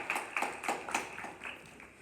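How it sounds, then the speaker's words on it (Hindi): A few quiet, separate hand claps from a small audience at a Republic Day poetry gathering welcome a poet, spaced out unevenly and fading within two seconds. "तालियों का स्वागत कीजिए सबीना जी का"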